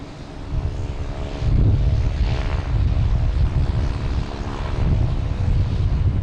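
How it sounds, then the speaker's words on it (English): An American Airlines Airbus A321 roars through its takeoff run at Logan Airport, a steady deep jet-engine rumble with a rising whine, partly buffeted by wind hitting the microphone. "We have an American Airlines taking off, heading to Dallas. Airbus A321."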